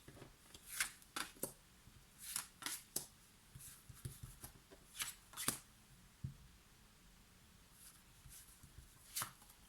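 Oracle or fortune-telling cards are shuffled by hand in a series of brief, crisp riffling bursts, quiet and close, with short pauses between them and no one speaking.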